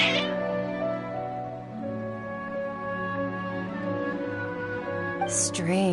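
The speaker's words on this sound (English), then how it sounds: "Your cats seem pretty worked up." Agitated meowing from cats in the video game Genshin Impact, several drawn-out cries with a sharper yowl near the end, mixed with in-game ambience.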